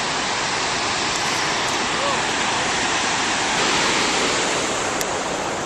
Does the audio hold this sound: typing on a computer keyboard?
no